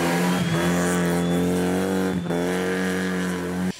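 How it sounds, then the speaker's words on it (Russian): Rally race cars built from Russian Lada and Volga models speeding along a winding mountain road near Sochi, a loud continuous engine drone with steady high revs and a brief dip as one passes. "По извилистой горной дороге они набирали скорость до 200 км в час."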